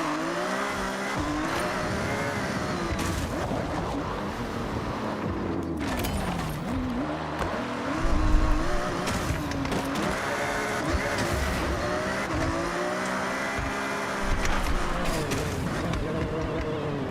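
Ferrari racing in the Forza Horizon video game, with a steady, loud engine drone rising and falling through gear changes and brief tire squeals around 8 and 14 seconds, continuous throughout.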